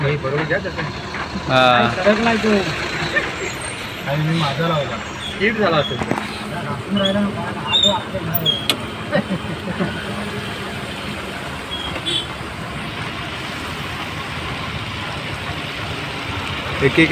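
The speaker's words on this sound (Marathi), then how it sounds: "खूप गाड्या आहे आणि पुढे सुद्धा खूप गाड्या आहेत" Cars, buses and trucks idling in a roadside traffic jam, a low, steady engine rumble underneath people talking nearby, with occasional louder vehicle sounds.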